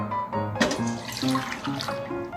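Water poured into a cooking pot for simmering a tuna head with seasonings, a steady splashing pour lasting a couple of seconds with a brief louder splash near the start, up close and without talk.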